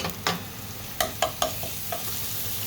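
Onion, ginger and garlic fry in a pan for a red amaranth curry, giving a steady close sizzle punctuated by several sharp stirring scrapes and taps.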